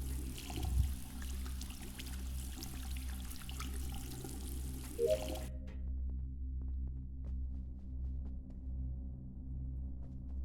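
Shower water running in the video game Among Us, a soft, steady hiss of spraying water that cuts off about halfway, leaving a quiet low hum and faint electronic game tones.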